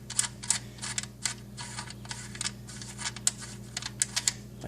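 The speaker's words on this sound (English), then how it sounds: "you undo that nut." Ratcheting clicks from a wrench loosening the half-inch nut on the alternator wire of a 2001 Dodge Ram 1500, a run of quick, close metallic ticks over a steady low hum.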